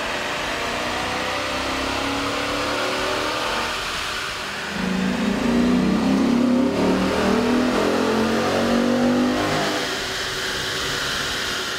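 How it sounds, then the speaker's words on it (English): A Dodge Magnum's 5.7-liter engine with a cold air intake revs on a dyno, a loud, sustained roar that climbs midway, holds at higher revs, then eases back slightly, with no talking. "we ran the vehicle on the dyno to test the sound comparison versus the stock intake"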